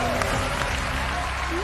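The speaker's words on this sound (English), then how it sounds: "Round of applause." Studio audience applause at a game show, a steady wash of clapping heard close and continuous throughout, with faint voices under it.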